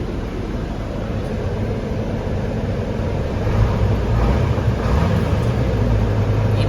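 A 2002 Isuzu FRR truck's 6HH1 diesel engine runs steadily, a low continuous rumble heard from inside the cab that swells slightly louder partway through, with no talking.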